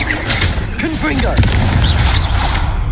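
A Confringo blasting spell from Hogwarts Legacy erupts as a loud booming explosion with crackling bursts, heavy low rumble running throughout, over game music and effects.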